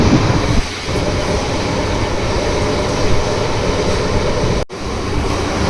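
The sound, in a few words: MEMU electric train running fast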